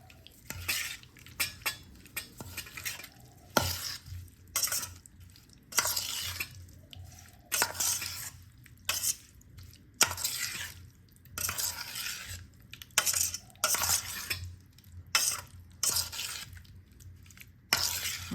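A spoon stirs paneer curry with kasuri methi in a metal pan, making repeated scraping clinks in uneven bursts over a faint sizzle, close and moderately quiet, with no talking.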